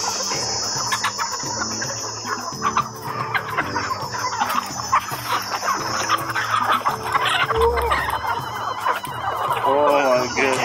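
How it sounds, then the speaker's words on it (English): A crowd of chickens clucks and squawks continuously in a large chicken farm, dense and close, with a rooster's crow and occasional louder calls rising out of the din. "We have lots of chicken"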